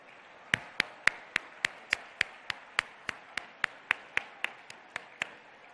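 Slow, evenly spaced hand claps ring out one by one, about twenty sharp claps in steady rhythm, as a standing audience at an Iftar gathering in LB Stadium welcomes the chief minister.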